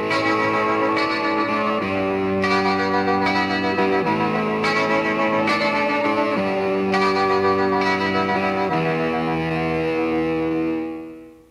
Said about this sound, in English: One amp is set for distortion,